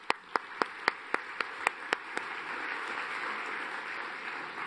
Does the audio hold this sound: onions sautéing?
no